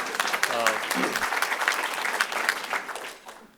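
A crowd at a presidential campaign event for Pete Buttigieg applauds steadily for a few seconds, dense clapping that tapers off at the end, with a voice briefly audible early on.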